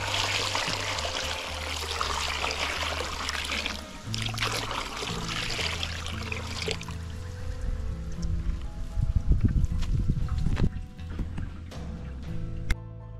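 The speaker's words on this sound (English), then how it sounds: "Pour the ashes into the basket and pour water in it." Water poured into a basket of ashes splashes and trickles steadily, with a heavier pouring gush partway through, close by and without any voices.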